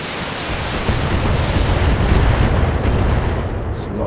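A volley of LRM missiles fires in the video game BattleTech, a loud, sustained roaring rush of launches and impacts lasting several seconds, dense and close, with no clear breaks.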